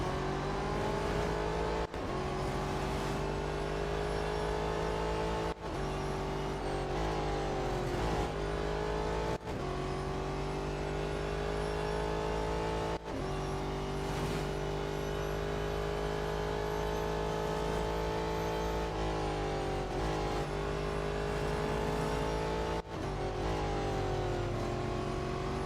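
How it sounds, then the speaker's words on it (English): Race cars in the video game Real Racing 3 roar continuously while driving and overtaking, a loud, steady engine drone with shifting pitch as the revs rise and fall, heard alone without talk. "I've got no idea how this car's overtaking all the other cars"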